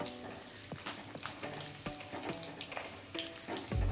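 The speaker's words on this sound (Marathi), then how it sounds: "आता आपण खोबऱ्याचे जे काही स्लाइस केले आहेत त्या फ्राय करून घेऊ" Coconut slices fry in hot oil for poha chiwda, a steady close sizzle with scattered crackles and a few scraping stirs, no talking.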